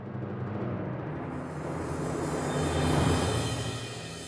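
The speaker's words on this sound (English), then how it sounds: "So that's a sample of a cymbal roll by itself." A sampled cymbal roll in a Logic orchestral arrangement, a continuous shimmering wash that swells gradually, peaking near the end before easing slightly, heard alone.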